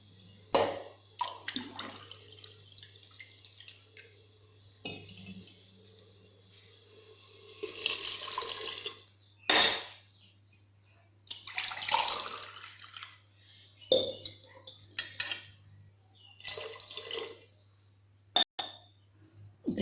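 Water is poured into a cooking pot for vegetable pulao in several separate bursts of splashing and trickling, mixed with clinks of a tumbler against the vessel and a steady low hum underneath.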